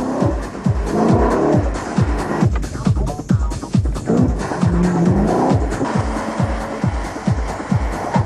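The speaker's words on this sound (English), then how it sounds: "The sheer engine power of the 5-liter V8 makes it tricky to control." Hartge 5-liter V8 car driven hard through a pylon course, engine revving up and down repeatedly with gear changes and tire squeal, loud and close.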